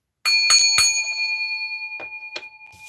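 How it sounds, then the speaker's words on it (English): A small bell rung before a tarot reading gives three quick bright strikes, then two softer strikes follow, each ringing out with a long sustained shimmer. There is no talking. "We're going to ring that bell. Ding-a-ding-ding."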